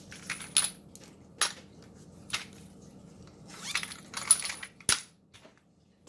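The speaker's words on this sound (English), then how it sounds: "I would need to put in a pair of scissors" Scissors clink and rattle as they go into a small purple crochet zipper pouch, giving a handful of short metallic taps and rustles spaced over several seconds in a quiet room.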